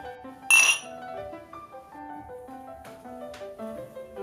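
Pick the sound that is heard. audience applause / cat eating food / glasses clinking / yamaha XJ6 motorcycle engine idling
glasses clinking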